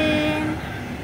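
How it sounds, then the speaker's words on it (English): A passing train near the Elbe river rumbles by close at hand, with a sustained tonal horn-like hum fading after half a second into steady rolling wheel noise. "Bye-bye train!"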